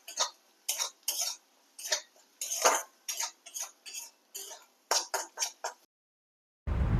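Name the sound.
stirring roasted spice paste for egg korma in a pan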